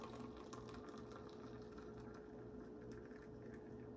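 Hot water is poured into an AeroPress Go portable coffee maker over ground coffee, a quiet, steady trickling fill with a faint hum beneath and no talking.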